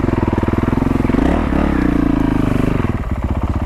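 A Honda CRF450L motorcycle engine drones loud and steady at close range, its rough pulsing note shifting slightly as it rides through a swamp.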